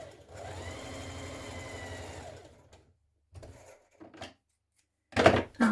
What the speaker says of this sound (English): So I'm sewing the lining pieces together now